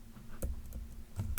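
A handful of computer mouse clicks while working in ArchiCAD 23, about three sharp close clicks over a quiet room hum, spaced unevenly within a second and a half.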